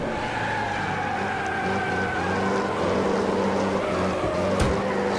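A banger race car in Wreckfest drives and drifts with a continuous engine drone and tyre noise, steady and fairly loud throughout, with no voices.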